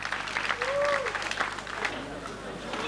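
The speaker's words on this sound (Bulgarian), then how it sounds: "А сега вашите аплодисменти за състезателите!" Crowd applause, a dense wash of clapping and cheering from a large audience, with a faint tonal whistle rising briefly in the middle.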